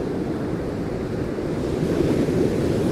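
Rough sea waves wash onto the beach at Glen Maye on the Isle of Man, a loud, continuous rumbling surge mixed with gusting wind buffeting the microphone, with no voices.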